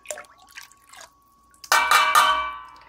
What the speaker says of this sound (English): And I get my rennet. Everything's dissolved in water. And I'm going to add this to the milk.